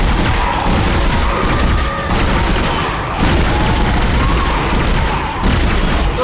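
Gunfire from a newly acquired weapon in the sci-fi horror game Dead Space, loud dense bursts and booms running nearly continuously, with a brief dip around midway and another near the end.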